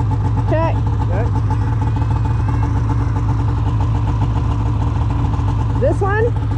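A Yamaha Kodiak 700 EPS SE ATV engine idles with a steady, low rumbling chug, close by, while people talk briefly over it.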